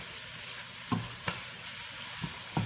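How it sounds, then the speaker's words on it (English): Onions frying in a pan and salted with Himalayan salt, a steady soft sizzle broken by four sharp scrapes of stirring spaced about a second apart. "we're going to just basically cook the onions slightly"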